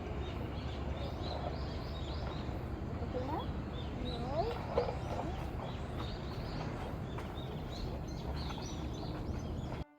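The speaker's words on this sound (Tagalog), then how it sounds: "yung mga naririnig mo, puro ibon lang" Birds call and sing in a leafy rural countryside setting full of trees, a steady mix of chirps and warbles spread through the whole stretch over continuous outdoor background noise, with a person talking throughout.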